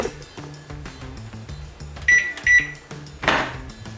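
An oven timer being set to 30 minutes in a home kitchen, with a few short electronic button beeps among light clattering and kitchen handling noises, no talking.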